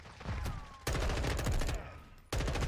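Rapid bursts of automatic gunfire in the video game Modern Warfare 2, several fusillades in quick succession with short pauses between, fairly quiet and close.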